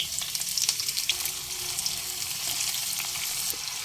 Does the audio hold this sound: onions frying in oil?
yes